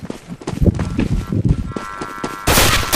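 Gunfire in Counter-Strike: Global Offensive, with rapid overlapping shots and rattling bursts and a dense, loud stretch of fire at the end.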